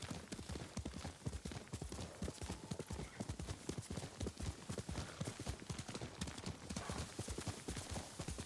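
Steady clip-clop of horse hooves on a hard surface in the video game Ghost of Tsushima, a brisk continuous rhythm close by, with faint voices in the background.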